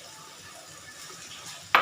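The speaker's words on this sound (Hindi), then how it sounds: "अब मैं इसमें शामिल करूँगी बंद गोभी और इसको भी इसके साथ में अच्छे से फ्राई कर लूँगी।" Cabbage frying in a pan for a chicken cheese roll filling gives a steady, faint sizzle with soft crackle throughout, ending in a brief louder clatter.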